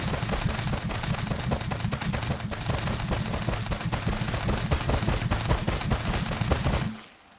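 A drone fitted with two dozen spud guns fires them in a dense, rapid, continuous volley of sharp bangs for about seven seconds, then the barrage cuts off abruptly, with no talking.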